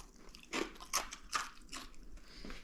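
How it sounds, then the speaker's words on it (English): Homemade croutons snapped apart by hand, giving four or five crisp, dry crunches in an uneven rhythm, close and clear with quiet gaps between them. "Can break it maybe. Crunchy. I don't know if you could hear the crunch."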